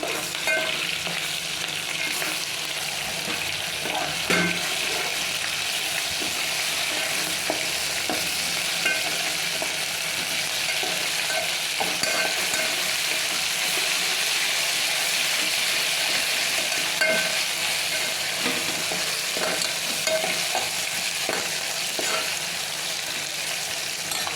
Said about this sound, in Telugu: అల్లం ఎల్లిగడ్డ పేస్ట్ వేసుకుందాం ఎందుకంటే ఇది మసాలా పప్పు కదా టేస్ట్ చాలా బాగుంటుంది అందుకే మసాలా పప్పు వేసేసుకొని మంచిగా కలిపేసుకుందాం